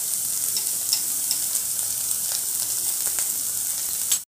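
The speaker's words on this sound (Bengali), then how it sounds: "আমার বেগুন ভাজা হয়ে গেছে" Eggplant pieces sizzle steadily in a hot pan with salt and turmeric, a dense close hiss with faint crackles throughout, no voices.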